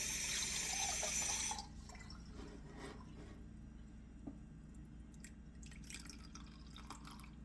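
Cold water is poured into a bowl of bread culture and flour, a short gush followed by scattered small drips and light handling sounds, close and fairly quiet with no talk.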